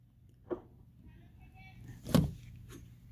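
A 2019 Nissan Titan XD Pro 4 door with an Amp Research power step, heard as a soft click, then a sharp louder latch or thunk about 1.5 seconds later, then a fainter knock, set against quiet background hum.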